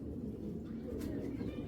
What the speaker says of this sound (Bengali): আর এই 2টা কবুতর একদম ফার্স্ট ক্লাস হবে